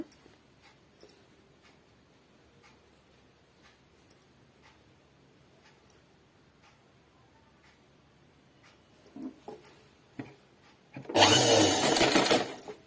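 An electric sewing machine runs in a fast, loud burst of stitching on a collar-neck dress, following a long quiet stretch with faint handling clicks and a couple of short machine bursts.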